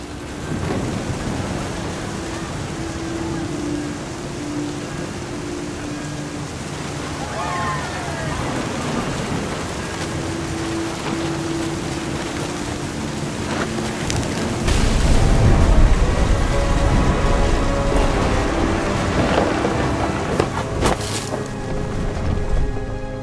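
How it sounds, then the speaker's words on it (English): A thunderstorm in the video game What Remains of Edith Finch brings steady rain and rolling thunder, with a heavy crash partway through, under a calm narrating voice. "The thunder sounded much too close and full of angry power"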